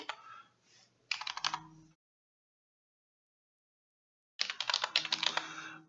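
Two bursts of fast keyboard typing, close and clear, separated by a few seconds of silence.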